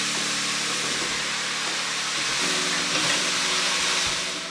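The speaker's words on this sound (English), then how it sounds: "I'm going to add a punnet of button mushrooms that I've just sliced in half" Halved button mushrooms from a punnet go into a hot pan with sweating vegetables for a braised beef ragù, making a loud, steady broad sizzle and hiss that swells slightly midway and runs throughout.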